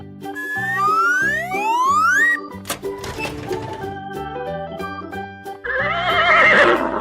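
A cartoon horse in a kids' cartoon neighs with a rising whinny over a bouncy musical backing, followed by plinking tones and a second bright, loud burst of sound.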